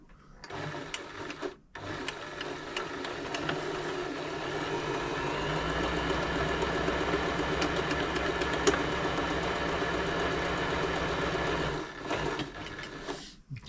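An Elna 3007 sewing machine stitches a buttonhole, its steady rapid needle hum running continuously for about ten seconds after a short start, then stopping, close and clear with no talk.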